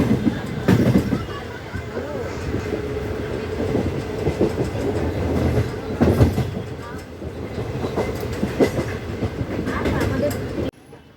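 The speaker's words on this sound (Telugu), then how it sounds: "ట్రైన్ అయితే వచ్చేసింది మన ప్లాట్ఫారం అయితే ట్రైన్ ఎక్కాను" Steady rumble and clatter of a moving passenger train heard from inside a carriage on an Indian route, with rhythmic wheel clicks and occasional louder bursts, plus faint background voices throughout.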